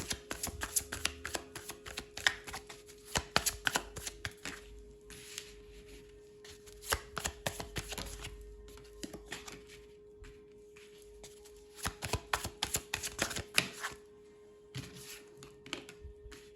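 Tarot cards being drawn and laid out from a deck, in bursts of crisp shuffling, sliding and light tapping separated by quiet pauses, close and fairly soft.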